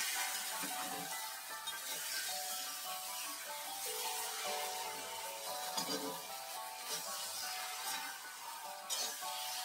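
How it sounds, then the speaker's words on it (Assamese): Chicken meat fries steadily in a pan for a home-cooked chicken and skunk vine curry, giving a loud, continuous sizzle and crackle with no talking. "আৰু মাংসখিনিও মই একেবাৰে লাগি ধৰাকৈ ভাজি ল'ম"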